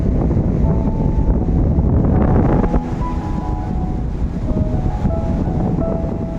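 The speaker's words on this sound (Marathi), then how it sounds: "वारा सुद्धा सोसाट्याचा सुटलेला आहे त्याच्यामुळे आपला आवाज हा कमी येत असेल" Strong, steady sea wind roars and buffets the microphone throughout at a beach at high tide, with a dense low rumble and faint tonal whines drifting in and out.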